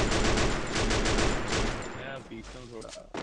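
Rapid machine gun fire rattles in a battle royale video game, a loud dense burst of shots for about two seconds before it cuts off and a voice speaks over fainter in-game sound.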